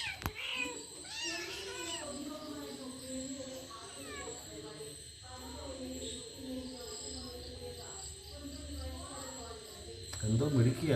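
A kitten eating a rat makes repeated whiny, warbling meows and growly murmurs close up, with a voice talking over the feeding.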